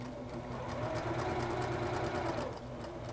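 Sewing machine stitching a straight seam, a fast, even mechanical chatter running steadily for a few seconds before easing off near the end.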